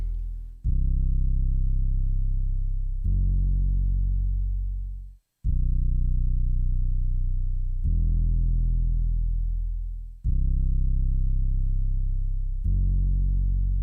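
A deep synthesizer bass preset in Cubasis plays solo, sustained distorted notes repeating in a slow pattern, each swelling then fading out.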